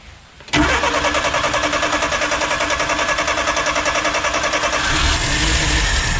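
A small engine with a freshly cleaned carburetor and the choke fully on catches abruptly after a quiet start, then settles into a loud, close, steadily pulsing idle that holds to the end.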